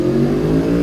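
Aprilia Tuono V4 motorcycle with a race ECU flash and sprint filter revving hard up close, a brief loud, raspy burst of engine sound heard alone.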